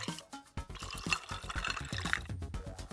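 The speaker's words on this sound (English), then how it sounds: "Pour it into an ice mold." Water mixed with blended aloe pulp poured into an ice mold, a close, gurgling pour with bubbly splashes and drips, fairly quiet and uneven.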